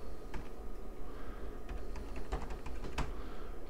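Rapid keystrokes on a computer keyboard as a terminal command is typed, a quick irregular run of soft clicks close by with a few sharper taps near the end.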